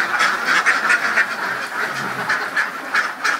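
A flock of laying ducks quacks repeatedly and close by, a busy, overlapping chorus of nasal calls with no pause.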